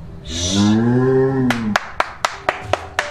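A beef cow in a farm pasture lets out one long, loud, low moo, followed by a rhythmic series of sharp claps or gate bangs at roughly even intervals.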